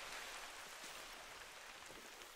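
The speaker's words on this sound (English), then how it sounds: "God, this rain is so fucking loud" Steady, dense rain pours in the hunting video game The Hunter: Call of the Wild, a constant loud hiss of drops with no other sounds over it.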